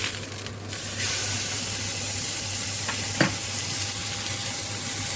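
Tuna seared in a hot pan for a Niçoise salad gives a loud, continuous close sizzle and hiss, with a couple of brief clicks from the pan partway through.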